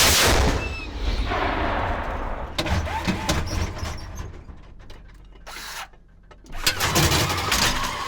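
A tank gun fires: a loud, sharp blast right at the start, followed by a rumbling decay, mechanical rattling and clanking, then another surge of heavy noise near the end.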